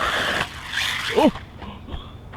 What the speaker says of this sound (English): there's our first big crash